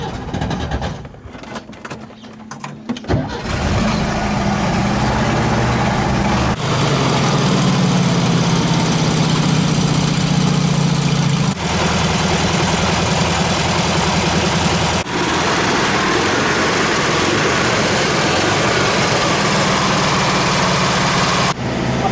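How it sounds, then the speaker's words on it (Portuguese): Tonella Eltron variant engine running steadily at a fast idle just after starting, a loud continuous even drone following a brief rough start, close by with no talk over it. "só pelo barulho que a gente ouve, o motor está muito bom e está com um funcionamento muito estável"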